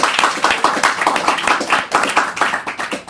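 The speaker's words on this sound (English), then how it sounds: "Let's give them a round of applause" Audience at Bop Shop Records, a used vinyl shop in Rochester, claps for an indie act, with dense, lively hand claps close by and a whoop or voice or two mixed in, sustained throughout.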